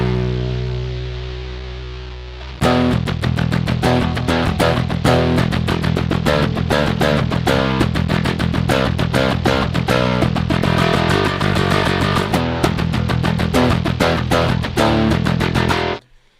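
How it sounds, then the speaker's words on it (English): Bass guitar played with a pick through a fuzz effect with lots of clean signal and gritty fuzz underneath, a driving riff of repeated notes starting after a quieter lead-in and stopping abruptly near the end. "So this one has like a ton of clean signal, and the fuzz is kind of bubbling underneath, and it's a very nasty kind of sounding fuzz."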